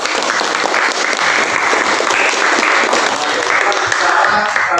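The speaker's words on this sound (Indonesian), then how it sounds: "Berikan aplaus untuk" Students in a classroom clapping together, a dense, loud and steady burst of applause lasting several seconds with no break.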